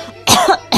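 An older woman in a Turkish radio drama coughs twice: one sharp, harsh burst, then after a brief pause a shorter second cough, loud and close, with no talk.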